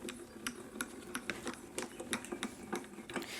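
A die-cutting machine rolls craft plates through with a quiet, rhythmic ticking and clacking over a soft mechanical whir. The sound is faint and steady, with no voices.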